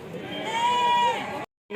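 Sheep bleat in a crowded Tuesday sheep and goat market at Kadiri: one long, wavering, fairly close bleat holds for over a second. A brief gap of silence follows, then other noise returns.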